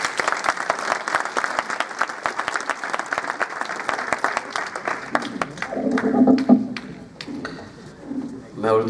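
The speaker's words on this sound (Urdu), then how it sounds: "آپ کی زوردار تالیوں میں فیاض صاحب" An audience at an Urdu poetry recital claps for a poet, a steady burst of applause that thins after a few seconds as a voice starts speaking over the fading claps.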